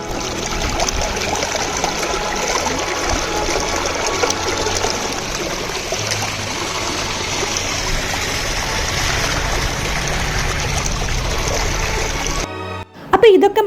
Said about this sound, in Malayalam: ഒരു വലിയ തുള്ളിയിൽ നിന്ന് പല തുള്ളികളായി പല കൈവഴികളായി ഒഴുകി പോകുന്നതാണ് ഇപ്പോൾ കാണുന്നത്